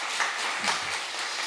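A church congregation applauding during a Sunday service in a brief, steady wash of clapping from many hands.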